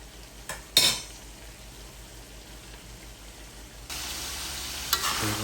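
Pork belly in soy sauce with pineapple bubbles and sizzles in a pan as the liquid cooks down, a soft steady fry broken by a couple of clinks of a utensil and a brighter hiss near the end.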